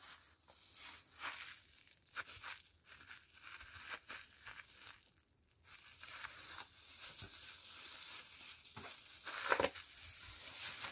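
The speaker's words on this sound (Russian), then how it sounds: "Горлышко оставляю открытым и давлю на низ, чтобы укроп улегся такой лепешечкой." A plastic bag of dill is pressed flat by hand, giving close, intermittent crinkling and crushing rustles in uneven bursts, quieter in the middle and busier toward the end, with no voices.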